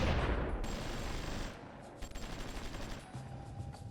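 Artillery fire in the strategy game Supreme Ruler Ultimate, a loud opening barrage fading into scattered, rapid distant shots and crackling impacts.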